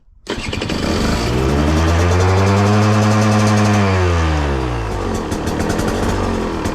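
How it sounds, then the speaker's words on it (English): A 2023 KTM Husqvarna 125 two-stroke dirt bike starting cold on a chilly day, firing abruptly into a loud, high idle that swells and then settles, close up with no talking. "Gonna go ahead and press that cold start in."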